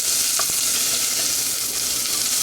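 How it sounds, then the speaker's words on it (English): Half an onion drops into hot olive oil in a pan, setting off a loud, dense, continuous sizzle heard up close, with a small clatter at the start and no voices. "So we're going to drop these onions in."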